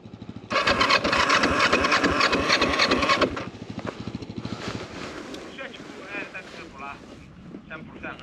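An off-road motorcycle at the Baja do Cávado rally revs hard under heavy wind buffeting, then settles into a lower, uneven running note, with voices nearby.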